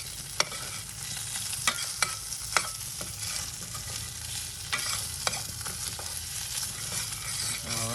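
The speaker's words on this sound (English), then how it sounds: "these sausages are sauteing" Sausages brown in a pot with a steady close sizzle, broken by sharp clicks and scrapes as they are stirred to keep them from sticking.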